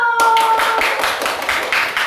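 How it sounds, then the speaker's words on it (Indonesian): A classroom of children claps hands together in a lively, sustained burst of rhythmic clapping, loud and close, with faint voices mixed underneath. "Tepuk tangan dulu."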